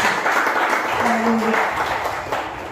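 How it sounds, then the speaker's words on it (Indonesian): Applause from a church congregation during a sermon, a dense wash of clapping at a steady level with voices mixed in. "Berikan tepuk tangan di bawah Tuhan."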